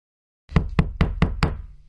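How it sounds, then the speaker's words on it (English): Five firm knocks on a door, evenly spaced and close, each a hollow thud with a short ring after it, following a moment of silence. "Open this door, Mr. Super Imp 123."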